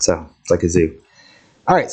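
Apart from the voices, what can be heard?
No distinct noise like a dog, phone or traffic.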